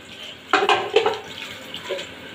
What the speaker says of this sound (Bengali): দিয়ে দেবো পরিমাণ মতন উষ্ণ গরম জল